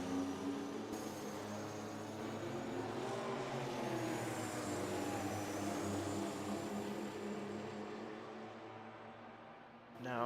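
A works Porsche race car at a 1984 World Endurance Championship round runs through the Lesmo corners, its engine a steady distant drone that swells and fades, with a commentator's voice faintly underneath.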